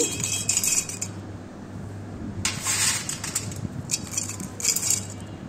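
Dried garlic being tipped into a blender jug, heard as brief bursts of light rattling and clinking against the jug, with a low hum underneath.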